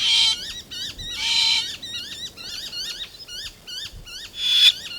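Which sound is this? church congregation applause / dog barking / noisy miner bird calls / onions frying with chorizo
noisy miner bird calls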